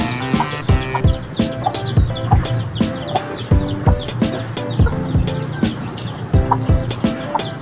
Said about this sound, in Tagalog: Week olds na mga manok.